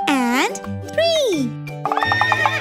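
A horse whinnies twice, loud and close, each call rising and falling, followed by short jingling, rhythmic sounds.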